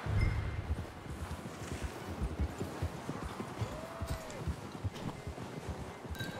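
Horse hooves clip-clop in a steady, moderately close walking rhythm in the video game Red Dead Redemption 2, with light wind and ambient noise beneath.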